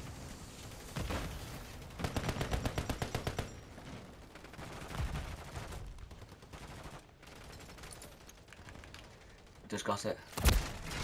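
Gunfire in the survival game Rust, with a rapid burst of repeated shots near the start, scattered weaker shots afterward and a sharp loud crack near the end, heard under a brief spoken remark and game ambience.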